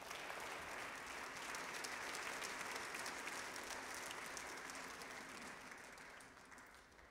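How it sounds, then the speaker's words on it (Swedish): A hall audience at a Holocaust remembrance evening applauds musicians as they come up to perform, a dense, sustained clapping that holds steady and then slowly fades toward the end. "Låt oss ge dem en applåd när de kommer upp."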